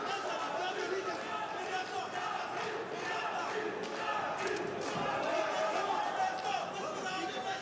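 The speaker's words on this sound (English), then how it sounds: "You can hear the crowd cheering, I think, for Gergi, right?" The crowd at an Eagle FC MMA fight cheers and chants in a large venue, a continuous roar with rising shouts and occasional thuds, while commentators talk over it throughout.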